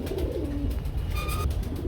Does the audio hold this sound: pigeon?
yes